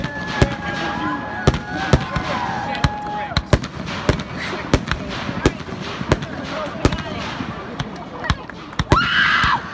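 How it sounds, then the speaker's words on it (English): Repeated sharp firework bangs from a high school graduation display burst at irregular intervals, a dozen or more, over a crackling background with distant whistles and crowd noise. "I think that's where fireworks came in."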